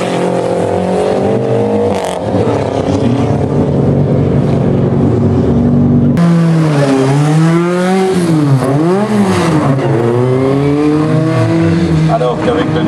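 Historic car built with fir wood from the Amançon plateau, climbing a hill-climb course, its engine revving loud and close with rising and falling pitch as it accelerates and shifts, under an announcer's commentary.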